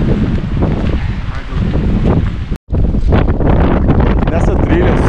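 Cold wind buffeting the microphone on a mountain trail up to a glacier, a loud, continuous rumbling roar with a brief dropout midway, while a person speaks.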